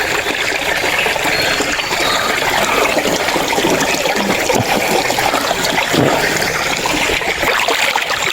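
Fresh, very cold spring water flowing in a forest, a steady close trickling and burbling that runs without pause for the whole stretch, with no talk over it.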